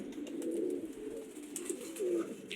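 Pigeons coo in a low, rolling murmur that runs throughout, with a couple of stronger coos near the end, heard close by and alone.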